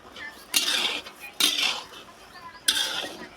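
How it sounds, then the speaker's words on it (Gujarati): A metal spoon scrapes and clinks against a pan while stirring sugar into milk mawa, in three separate bursts of stirring with short pauses between them. "ખાંડ નાખી દીધી છે અને આને છે ને હલાવવાનું હોય"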